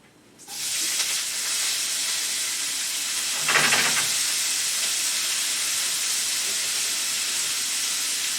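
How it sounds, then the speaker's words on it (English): Bok choy hits hot oil in a pan and sets off a loud, steady sizzling hiss that keeps going, with a brief sharper crackle partway through and no voices. "Now let's get this bok choy in here."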